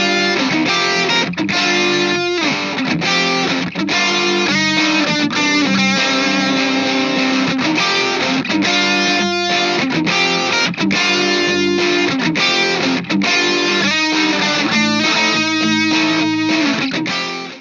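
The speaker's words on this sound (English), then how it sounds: "the lead or solo tone and the heavy overdrive tone are used at the same time on separate guitars playing different parts to fill out the sound" Heavily overdriven electric guitars from the Persona game soundtrack, a smooth sustained lead line layered over a harsher, distorted rhythm part, loud and continuous with dense chugging attacks throughout.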